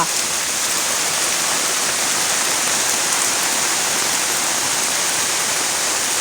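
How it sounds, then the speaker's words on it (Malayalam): Heavy rain pours down in a steady, dense roar, unbroken throughout, with no voices. "നേരത്തെ പെരും മഴയാണ്"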